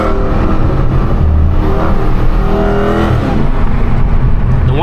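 A hoodless widebody Hellcat with its supercharger exposed revs hard, the loud close engine roar carrying a rising and falling whine throughout, with no voices.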